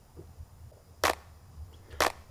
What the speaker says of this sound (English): So that's the clap.